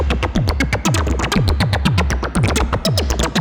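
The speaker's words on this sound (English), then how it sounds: "And then I'm running the triangle through the wave folder, the suit and tie guy wave folder." A modular synth triangle wave runs through a wave folder, giving a fast, evenly repeating train of bright, buzzy pulses, each with a falling pitch sweep. It plays close and steady with no talking.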